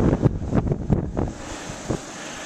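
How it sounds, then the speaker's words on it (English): Strong gusting wind during a February blizzard in Connecticut buffets the microphone with loud, uneven rumbling bursts that ease toward a steadier, fainter roar. "Damn you, wind!"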